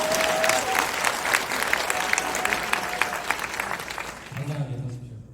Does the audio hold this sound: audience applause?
yes